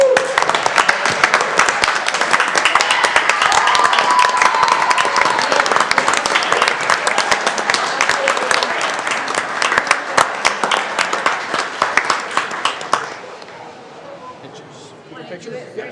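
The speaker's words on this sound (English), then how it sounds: "I'd love to do a standing applause for these ladies for their state championship as well." Standing applause at a city council meeting honoring a state championship team, loud, dense clapping with crowd chatter mixed in for about thirteen seconds before fading to murmuring voices.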